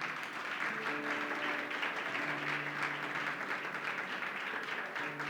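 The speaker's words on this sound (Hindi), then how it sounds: "जोर से ताली बजा सकते हैं" Applause from a congregation at a Christian spirit conference in India, a steady wash of clapping that holds level for the whole stretch, with faint sustained musical tones underneath and no clear talk.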